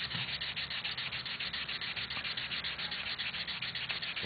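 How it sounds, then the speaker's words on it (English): Hand sanding over an Aeroplastic washer with 400 grit sandpaper, a steady, close, continuous scratchy rubbing with a quick back-and-forth rhythm throughout. "just sand right over the top of that Aeroplastic washer"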